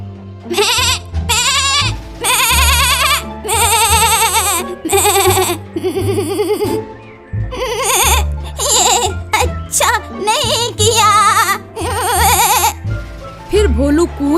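Cartoon goat bleats loudly and repeatedly in an animated moral story, long wavering cries following one another with brief pauses between them.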